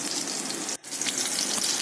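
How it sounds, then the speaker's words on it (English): Goan prawn cutlets shallow-fry until golden brown in oil over a low to medium flame, giving a steady close sizzle with a brief dip partway through. "There you can hear the lovely oil sizzling"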